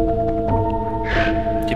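Soft sustained electronic tones form a gentle melody from Oddworld: Abe's Oddysee, with a brief breathy swell partway through.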